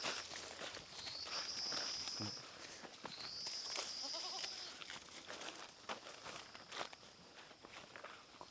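Goats on a small family farm in Vietnam, with a couple of high bleats and scuffing footsteps near the microphone and light movement throughout.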